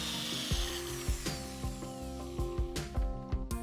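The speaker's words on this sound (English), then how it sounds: "Now drill 2 sides of the tube first with a thin drill." A thin 2 mm drill bores into a metal tube, giving a steady whirring drone with repeated sharp knocks and scraping bursts at an irregular rhythm, close and fairly loud, with no talking.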